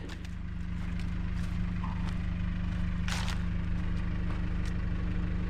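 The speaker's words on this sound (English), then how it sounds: "in a new Mahindra tractor" A new four-wheel-drive Mahindra tractor engine runs at a steady low idle, a deep even rumble with faint rhythmic knocking, fairly quiet and alone, with a brief clatter partway through.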